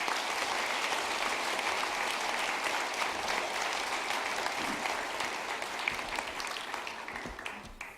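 Church congregation applauding to welcome the pastor to the pulpit during a Sunday service, a dense, steady wash of many hands clapping throughout that tapers slightly toward the end.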